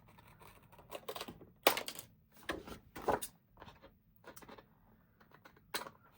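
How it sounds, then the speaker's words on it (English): Small snips and rustles of paper as a little tab is cut off a planner page, a quick run of faint, close, irregular clicks and crinkles with brief pauses between them. "I'm gonna cut this little tab off here."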